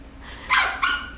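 A pet bird imitates a dog, giving two quick, close bark-like calls in a row against a quiet room.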